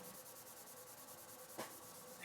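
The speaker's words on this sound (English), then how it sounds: "I'm going to be using a soft foam interface pad with a Super Acelix sanding block." Dry sanding a guitar's clear coat by hand with a foam interface pad on a sanding block, light pressure along the grain producing a faint, steady rhythmic scratchy rubbing, with one slightly sharper stroke near the end.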